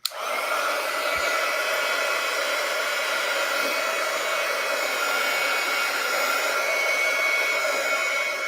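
A hair dryer blows steadily on a piece of journal artwork, a continuous loud whirring hiss running unbroken from start to finish with no voices.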